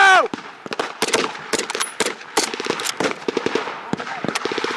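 Gunfire rings out at a battle reenactment, rapid irregular bursts of sharp cracks and pops at close to middle distance, with a shouted voice at the very start.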